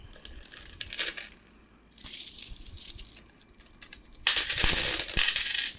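A pack of Reserve Bank of India commemorative coins is cut open and the coins pour out in bursts of bright metallic jingling and clinking, loud and close, with short pauses between pours.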